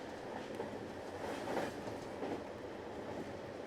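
Train running on rails in the video game How 2 Escape, a steady low rumble with a faint rhythmic clickety-clack of the wheels, continuous and moderately quiet with no voices.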